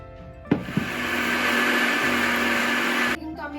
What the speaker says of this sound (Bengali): চিনিটা একটু গুঁড়ো করে নেবো